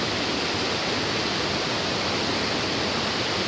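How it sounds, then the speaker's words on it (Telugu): The tall third waterfall at Amruthadhara in Maredumilli, fed from a mountain, gives a loud, steady, close rushing roar with no pause and no voices. "మనం అమృతధారలో 3వ వాటర్ఫాల్ దగ్గర ఉన్నాం."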